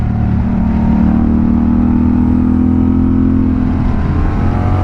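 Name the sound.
Honda Rebel 1100 motorcycle engine revving while downshifting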